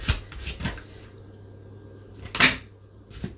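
Tarot cards shuffled by hand in a few quick riffling bursts, with sharp papery flutters near the start and again toward the end, separated by a quieter stretch.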